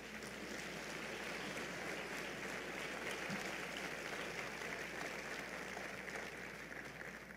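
A congregation at a Spanish-language church service applauds for the King of Kings, a faint, distant, even wash of clapping that holds steady for several seconds with no voices standing out.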